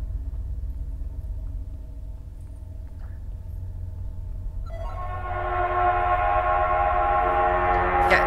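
An approaching Necreph monster in the horror video game Forewarned, a low rumbling drone that swells into a louder, brighter grinding roar over the last few seconds, steady and close.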